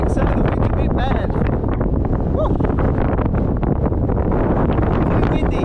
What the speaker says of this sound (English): The wind's a bit bad.